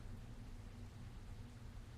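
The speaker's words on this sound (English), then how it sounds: "It's raining outside, so it won't look as cool, unfortunately." Steady rain falling outside in the nuclear plant game Nucleares, a faint continuous hiss with a low rumbling wash underneath, heard alone without any talk.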